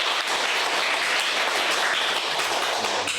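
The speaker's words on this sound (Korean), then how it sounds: "우리 다 함께 그냥 박수로" A church congregation at a Sunday worship service applauds together, a dense, continuous wash of clapping that holds at an even level throughout, with no speech on top.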